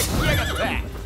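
A horse in the video game Rise of the Ronin whinnies loudly and close up, a single shrill neigh lasting about a second.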